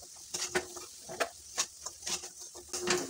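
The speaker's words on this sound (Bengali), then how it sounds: "এভাবে কিন্তু সমানে নেড়ে যেতে হবে, না হলে সব একসঙ্গে জোড়া লেগে যাবে।" Gaja pastries frying in hot oil while being stirred, with soft sizzling and a string of light scraping and clattering stirs that come at irregular intervals, close by.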